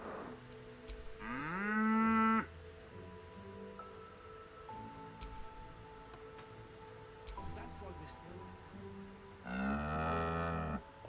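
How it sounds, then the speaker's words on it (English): A cow in the video game Baldur's Gate 3 gives two long, loud moos, one near the start and one near the end, with quiet game ambience and soft tones in between. "All that just for a moo, come on,"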